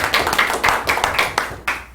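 A small group of people in a counselling session claps briefly and unevenly, about a dozen close, sharp hand claps over two seconds.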